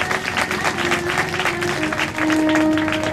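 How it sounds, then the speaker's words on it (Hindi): An audience at a Shiv Mahapuran religious katha gathering claps together, a busy rhythmic patter of many hands with some tonal sound running underneath. "उन सभी के सम्मान के लिए ताली बजाएं"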